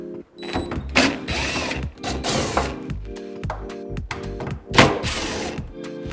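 A mini impact driver zaps the wing bolts off a Ford Focus ST, giving loud bursts of rapid mechanical hammering with clunks and short pauses between runs, close up.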